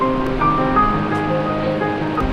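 Steady roar of the Seven Sisters waterfall in Meghalaya, India, where seven streams join in one fall, a continuous broadband rush of falling water heard from a distance with no voices.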